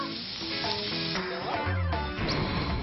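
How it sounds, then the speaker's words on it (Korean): Beef steak sizzling on a hot iron plate over a wood fire at an evening campsite barbecue, a steady close frying hiss running throughout with faint clinks and background music. "지글지글 소리의 맛이 절로 보인다 보여."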